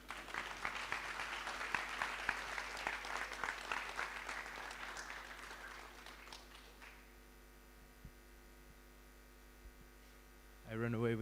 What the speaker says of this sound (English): Please, big, big round of applause for Masakanye.